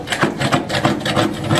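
A metal scraper works old sealant and a wax ring off a toilet flange at a cabin, making rapid, rough, rhythmic scraping strokes close by, about six or seven in quick succession.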